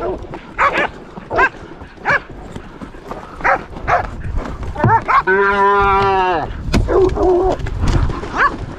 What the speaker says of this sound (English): we continued after the herd, where there was one more calf and one more Maverick cow